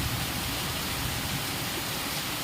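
A downpour of heavy rain makes a steady, even roar of falling water, loud and near, with no speech over it.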